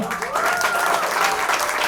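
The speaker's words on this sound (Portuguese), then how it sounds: "Uma salva de palmas pro Magela" A short burst of audience applause for a guest during a poetry conversation event, full and steady clapping, fairly close, with faint voices mixed in.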